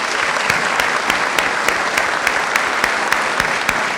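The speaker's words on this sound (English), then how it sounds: "Jen, round of applause for Jen Smith." Applause for Jen Smith, co-interim athletics director, at an introductory press conference, a full room clapping steadily and loudly for several seconds with a few sharper claps standing out.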